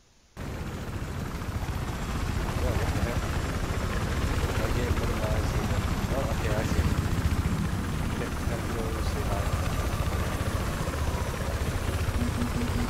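A helicopter's steady rotor roar fills the scene from start to finish, loud and continuous, with Battlefield 4 game sounds and voices mixed underneath.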